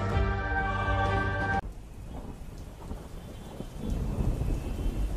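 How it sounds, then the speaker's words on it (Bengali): Rain and thunder effect for a Bengali horror audio drama: a brief tonal musical sting opens, then gives way to a steady, close wash of falling rain with low rumbling thunder underneath. "ফোঁটা ফোঁটা বৃষ্টি পড়তে শুরু করল"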